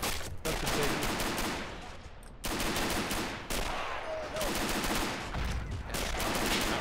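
Rapid, dense gunfire from multiple weapons in the WWII strategy game Men of War: Assault Squad 2, sustained and loud throughout with brief pauses between bursts, like a continuous fusillade.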